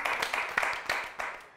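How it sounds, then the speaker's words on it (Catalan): An audience on a Catalan TV quiz show claps in a short, fairly dense burst of applause that fades away within about a second and a half. "un fort aplaudiment per elles que ho han intentat descobrir"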